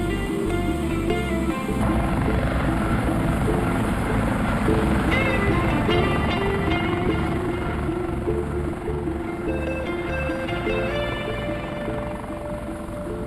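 A military training helicopter flying in a TV drama, its rotor and engine drone steady and loud throughout, with people talking over it.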